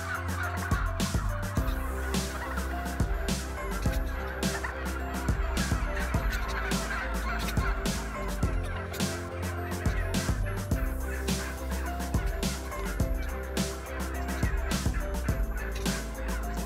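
Turkeys gobble continuously on a large breeding turkey farm, a loud dense chorus of overlapping gobbles from many birds with a steady low mechanical hum underneath and no speech.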